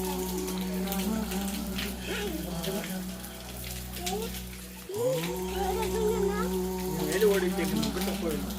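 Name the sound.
water falling down the hillside at a temple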